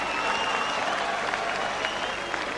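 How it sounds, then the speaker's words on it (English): Crowd applauding between rounds of the Toney v Nunn IBF middleweight title boxing bout, a sustained, even patter of clapping from a large arena audience heard at a distance. "you can just kind of tell by the way the crowd applauds after each round"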